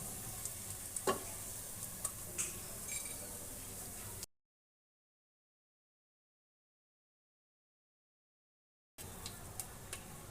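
Onions frying crisp in a pan for cauliflower biryani, a low steady sizzle with a few light clinks of a utensil, broken by a stretch of silence midway.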